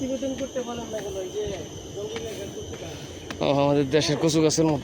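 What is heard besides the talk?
crickets chirping in Fort Canning Park forest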